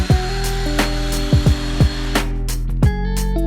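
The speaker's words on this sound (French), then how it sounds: "quand vous voulez être vraiment précis avec une scie sauteuse et ne pas faire d'éclat" A jigsaw held upside down, with a standard blade, cutting wooden parquet flooring. It gives a steady whining buzz broken by a series of sharp clacks and knocks, loud and close, with no talking.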